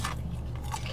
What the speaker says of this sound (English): Nice thin crunchy batter.